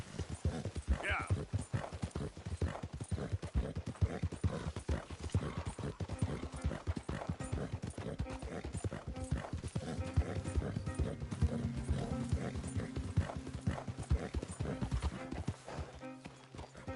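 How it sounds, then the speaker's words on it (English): Horse hooves clip-clop at a steady, rapid rhythm throughout a Red Dead Redemption 2 ride, close and continuous, with low music or ambient tones underneath. "That horse doing all right?"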